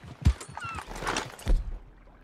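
A horse in Red Dead Redemption 2 gives a couple of hoof clops and a whinny in quick succession, close and fairly loud.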